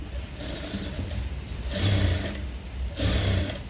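A sewing machine stitches an Aari work blouse, its steady close whirring needle run swelling into two louder bursts of rapid stitching, with no talk over it.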